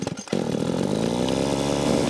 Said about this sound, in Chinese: 查理把他的 MD500 也拿了出来，他拉动引擎，